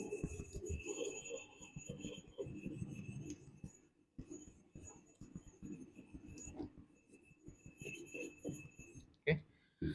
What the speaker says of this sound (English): use your wire brush, right, to rub out uh, any impurities or any dirt